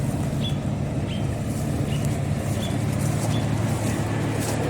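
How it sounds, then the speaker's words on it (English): A 1972 Oldsmobile Cutlass convertible with a bone-stock single exhaust and stock muffler idles steadily, a continuous low engine rumble heard close with faint chirps above it. "Alright, maybe you can hear the exhaust. Bone stock. Single exhaust. Stock muffler."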